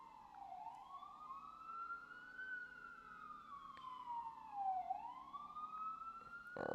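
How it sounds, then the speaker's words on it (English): An emergency siren wails past, its pitch sweeping up and down in two long rising and falling cycles, clear and fairly steady against a quiet background, growing louder toward the end. "All right, here comes the siren, guys."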